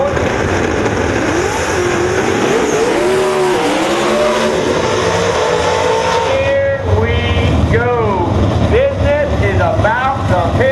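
X275 drag race cars at MIR, including a 1995 Mustang with a 347 cubic inch small block, roar loudly and steadily down the track, with engine pitch rising and falling in sweeps and an announcer talking over the din.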